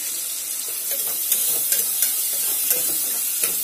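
Thinly sliced onion and green chillies frying in a pan for an egg masala curry, a dense, steady sizzle with soft scraping stir strokes, close up, no speech.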